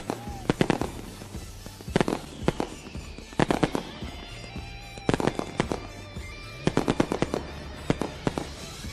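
Fireworks burst over an evening race track after a sportsman race, with sharp irregular cracks and booms in clustered volleys over steady crowd and track ambience, heard from a moderate distance.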